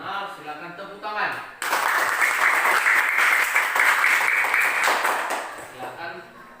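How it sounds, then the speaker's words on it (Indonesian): Students in a classroom break into applause after a group presentation, a sudden full burst of clapping following brief talk, sustained for several seconds before tapering off. "silakan tepuk tangan"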